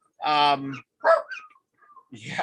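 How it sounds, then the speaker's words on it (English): A dog gives a loud, close, yelping bark and then several shorter whiny yips and whimpers, with brief silences between them. "Dogs, puppies, yeah."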